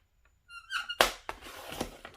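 A paper trimmer slides with a brief squeak, then gives a sharp cutting thunk followed by a short scraping rasp, all close up in a quiet room.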